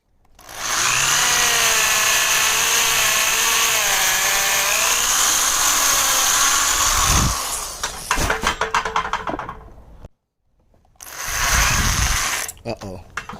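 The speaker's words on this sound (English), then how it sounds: "so we'll get to drilling." A power drill bores holes in wood for a cosplay sword build, whining steadily for several seconds, then sputtering and stopping before a second short burst, close and loud.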